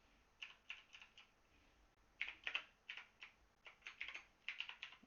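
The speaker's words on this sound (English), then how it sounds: "one second while I type" Quiet, close typing on a computer keyboard, clusters of quick key clicks in short irregular bursts separated by brief pauses.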